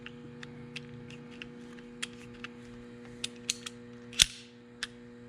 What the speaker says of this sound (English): Pull the slide back.